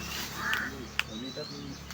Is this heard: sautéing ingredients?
no